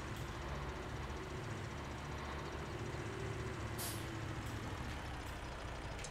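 Heavy truck engine rumbling steadily in Farming Simulator 17 on the Sosnovka map, with short bright hisses of air brakes releasing near the end over the continuous drone.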